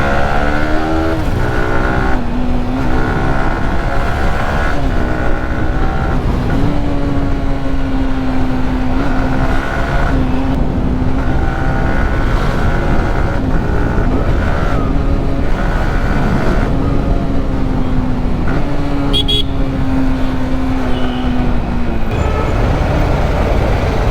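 A motorcycle ridden along a road, its engine close and loud with a steady drone whose pitch climbs and drops repeatedly through gear changes.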